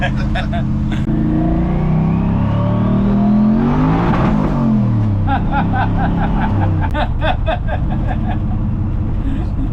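A twin-turbo LS V8 engine in a Mk1 Ford Escort revs hard and climbs in pitch, roaring loudly up close with a brief lull before surging again, people talking over it.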